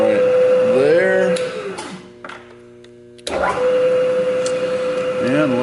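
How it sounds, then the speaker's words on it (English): A 3/4 inch end mill cutting metal at 530 RPM on a milling machine for a utility trailer build gives a loud steady whine with a tonal hum, cut off briefly midway by a quieter pause before resuming. "I'm using a 3/4 inch end mill, so 530 RPM."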